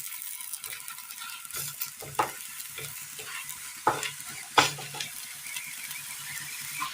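A wheat flour snack frying in oil in a pan, with a steady soft sizzle and scattered clicks and scrapes of stirring, several sharper knocks standing out, close and fairly quiet, no talking.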